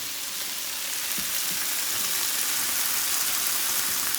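Mushrooms frying in a pan with fresh market parsley, browning until crisp; a steady, close, broadband sizzle with faint crackles runs evenly throughout without any talk.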